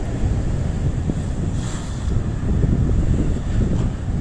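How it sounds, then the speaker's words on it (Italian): Rough Sicilian sea crashes in a continuous roar of surf under strong gusting wind that buffets the microphone, loud and close, with no one speaking. "Guardate che onde, ci stiamo avvicinando."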